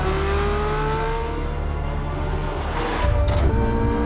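A Porsche 918 hybrid supercar, petrol engine working with electric motors, accelerates hard with a steady rising engine note and whirring drone, loud and close, with a gear change near the end.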